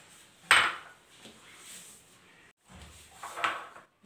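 A spoon clinks and scrapes in a bowl while turmeric, cumin powder, garam masala and other spice powders are stirred together for achar gosht masala. There is a sharp knock at the start, then softer scraping and a second clink.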